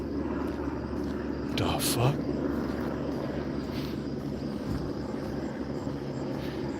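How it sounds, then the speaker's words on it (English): A helicopter in the Starfield video game gives off a steady, droning rotor and engine rumble that holds throughout, with a short startled exclamation from a man over it. "Holy shit, they got the helicopter out, bro."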